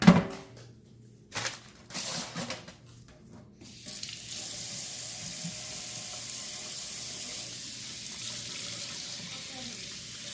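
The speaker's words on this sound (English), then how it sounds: "we're actually going to rinse this off, get that brine off there as much as possible" Tap water rinses brine off sockeye salmon in a sink, first a few brief splashes and handling sounds, then a steady, continuous rush of running water that holds to the end.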